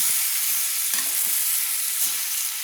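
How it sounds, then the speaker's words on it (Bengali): Fried boiled eggs are stirred with potol in spice masala in a pan: close, steady sizzling with a few soft scrapes of the spatula over a short stretch, no voices. "দিয়ে ভালো করে নেড়ে নিচ্ছি, মশলার সঙ্গে নেড়ে নিচ্ছি।"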